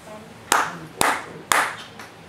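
Hands clap three times, sharp and evenly spaced about half a second apart, close and loud in a quiet room.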